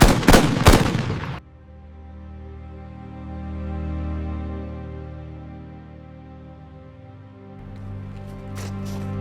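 Recording of two 2 cm flak guns firing, a rapid burst of loud shots at the start, then a low sustained droning hum and a few faint shots near the end.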